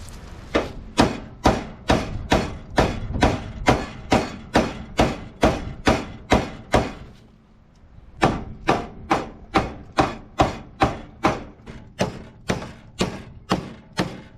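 Rapid, evenly spaced taps ring on Ford Ranger sheet metal held in a clamp, a run of about fifteen sharp hits, a brief pause, then another quick series, close and clear with no voices.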